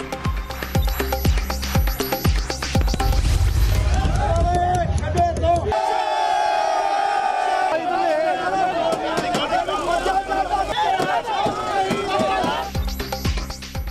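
PML-N workers gathered near Jati Umrah chanting slogans, with a dense, loud crowd roar of overlapping voices and rhythmic shouts throughout, and a brief lull midway.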